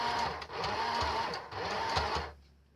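A sewing machine stitching a fabric strap closure for an accordion art journal, running in a steady whirring burst with a short dip near the middle before winding down, close and loud with no voices.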